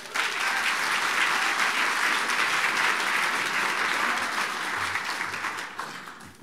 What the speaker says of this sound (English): let's give all the student athletes and golfers a big round of applause